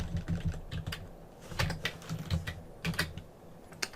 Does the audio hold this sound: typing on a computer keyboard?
yes